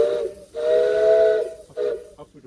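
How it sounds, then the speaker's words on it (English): Steam locomotive Lady Nan No. 1719 sounds its whistle on a heritage railway, a loud, close shrill tone in three blasts, short, long, then short, with a soft hiss beneath. "So sound the whistle first."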